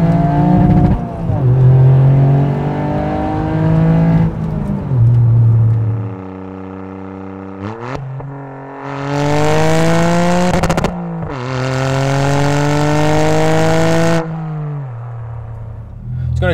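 Toyota GR Yaris with a titanium exhaust pulling hard in second gear, the engine note climbing loudly through several rising sweeps with brief dips between gear changes, close and dominant.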